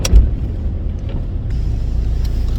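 A car interior while driving: a steady low engine and road rumble holds throughout, with a brief louder knock at the start and a slight rise in tone midway, and no voices.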